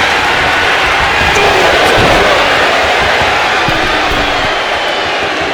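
Wrestling arena crowd at a WWE Friday Night SmackDown show, a dense, loud, continuous roar of cheering that holds steady throughout with scattered shouts and thuds within it.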